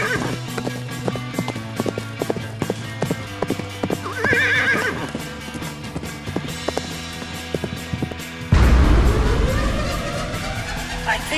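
Horses gallop in a rapid drumming of hooves with loud neighing and whinnying, a wild stampede, with a heavy rumbling swell toward the end.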